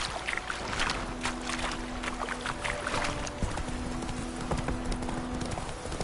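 Hooves of Roach, a horse in the video game Witcher 3, clip-clopping in an even trotting rhythm, close and continuous over a faint background with a low steady tone.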